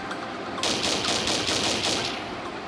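A rapid burst of gunfire from an AWM sniper rifle in a Minecraft PE gun addon, loud and close with a bright crackling rattle over about one and a half seconds, with no talk.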